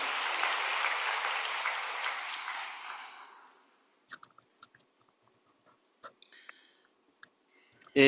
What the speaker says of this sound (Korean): 박수 한번 올리겠습니다